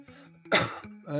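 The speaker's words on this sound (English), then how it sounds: "Why am I coughing?" One short, sharp cough bursts out between stretches of speech close to the microphone.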